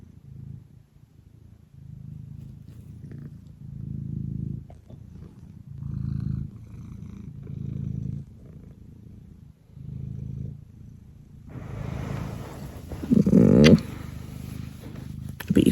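A cat purrs up close in steady rhythmic pulses, each breath cycle clearly audible, before a brief burst of rustling and handling noise near the end.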